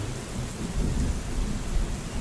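A thunderstorm with heavy rain pours steadily, low rumbling thunder rolling underneath the hiss of rainfall, loud and continuous with no voices.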